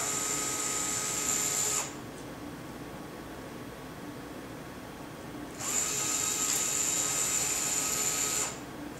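A power screwdriver backs servo screws out of the top of a Trex 550L helicopter frame, whining in two sustained bursts separated by a quiet pause.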